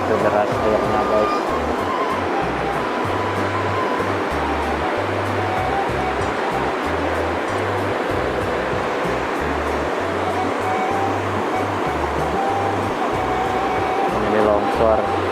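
A swift, swollen river in a rural village during the rainy season roars steadily and loudly, a dense unbroken rush of water close by.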